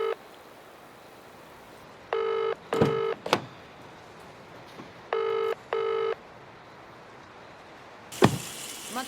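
Telephone ringing in pairs of electronic warbling tones, two short double bursts separated by quiet, fairly clear and close, with a couple of sharp knocks and a brief noise burst at the end.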